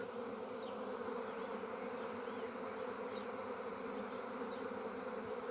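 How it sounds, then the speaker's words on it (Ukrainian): A steady, dense buzzing of a large bee swarm over an acacia tree in the evening fills the air continuously, an even droning hum with no voices. "А от рій над акацією."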